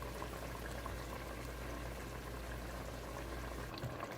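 Heavy cream is poured into a simmering paneer vegetable curry in a pot, giving a soft, continuous bubbling and liquid wash, faint and steady, with a brief stir-like shift near the end.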